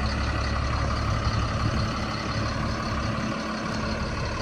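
A 2005 Ford F750 dump truck runs its hydraulic system to raise the dump box on two cylinders, heard as a steady, loud, low diesel engine drone throughout with no talk.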